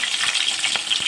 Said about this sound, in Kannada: ಫಸ್ಟ್ ಈ ಥರ ಎಣ್ಣೆ ಕಾಯಕ್ಕಿಟ್ಟಾಗ ಸಾಸಿವೆ ಹಾಕ್ಕೊಳ್ಬೇಕು.